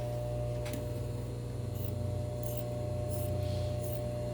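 Scissors snipping through spandex dress fabric while taking in the sides, a few soft crisp cuts over a steady low hum, close and fairly quiet.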